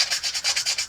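Sandpaper rubbed by hand to take the sharp edges off an archery shot trainer. Rapid, even back-and-forth strokes rasp close and clearly, about eight passes in under a second.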